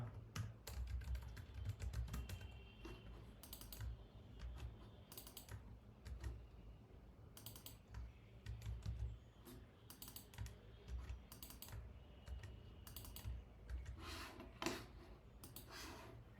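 Steady typing on a computer keyboard while Python code is written, a continuous run of close, quick key clicks with brief pauses and a louder burst of keystrokes near the end.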